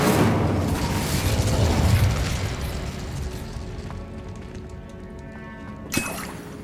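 Incendio fire spell cast in Hogwarts Legacy bursts with a loud, roaring whoosh that gradually fades, followed by a short sharp pop near the end over quieter mechanical game ambience.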